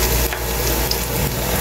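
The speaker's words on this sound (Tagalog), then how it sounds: "Painitin lang ng husto ang mantika at saka ilalagay ang bawang" Garlic frying in hot cooking oil for cuttlefish adobo, a steady close sizzle with faint stirring scrapes.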